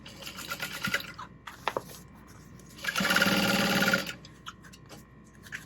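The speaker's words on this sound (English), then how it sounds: "And then you can lay your pieces together and sew along the sides." Sewing machine stitching the sides of a tote bag, a fast steady whir in short runs with a longer louder burst in the middle, separated by handling clicks and rustles.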